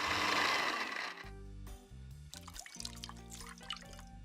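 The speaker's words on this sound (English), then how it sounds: "I'm free pouring the vodka, by the way" Vodka is free-poured into a cocktail glass, a brief close splashing pour that gives way to small drips and light clinking glass sounds.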